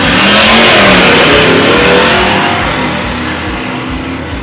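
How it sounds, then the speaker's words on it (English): A red Ford drag racing car launches hard off the starting line at a dragstrip reunion, its engine roaring loud and close, revving up and then fading gradually as it pulls away. "The red F1 Ford really gets off the stunt line."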